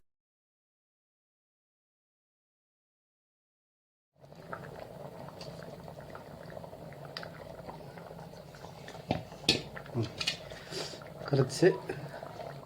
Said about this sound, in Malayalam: കറി തിളച്ച് വന്നപ്പോൾ നമ്മൾ അതിലേക്ക് മീൻ ഇട്ട് കൊടുക്കുകയാണ്.